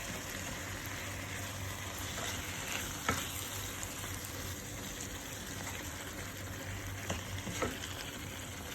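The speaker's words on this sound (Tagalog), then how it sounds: "kumukulo na siya." A pan of creamy chicken and mushroom sauce bubbles and sizzles at a low, steady level, with a few faint clinks and pops scattered through.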